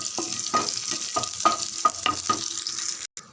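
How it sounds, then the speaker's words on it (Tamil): Mustard seeds, urad dal and chana dal crackle and pop in hot oil during Tamil-style tempering for a ripe-banana thokku, close up, with sharp repeated spatters over a steady sizzle and no talk. "தாளிப்பு பொருள் கடுகு, உளுத்தம்பருப்பு, கடலைப்பருப்பு நல்லா பொரியட்டும்."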